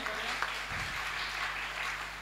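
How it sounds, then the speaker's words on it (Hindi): A live audience claps together at an award ceremony during an annual Sajal poetry festival. The applause is a dense, steady wash of clapping that holds evenly from start to finish, with no speech over it. "एक बार तालियां बजाएं"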